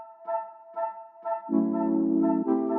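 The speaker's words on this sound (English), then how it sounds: "Let's introduce the staccato flute." Short staccato flute notes repeat in a dry, sparse pattern over a steady beat, then a sustained lower tone swells in and thickens the texture.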